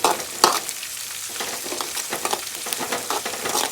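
Green chillies crackle and sizzle in hot oil for a lovi-lovi pickle, with a steady fizz and scattered sharp pops that come and go throughout, close and fairly loud, with no talking.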